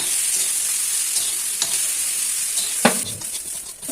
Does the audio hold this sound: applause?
no